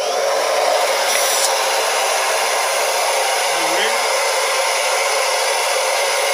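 A Translas 7XE MIG welding fume extractor runs with its suction on, producing a loud, steady airy roar that holds constant throughout, close by and with no talking.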